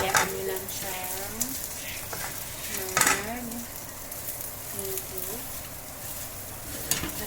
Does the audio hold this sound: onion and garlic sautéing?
yes